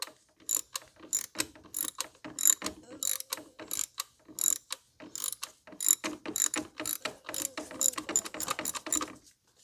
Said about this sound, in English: We're going to remove the TORX screw. It's a T20 TORX.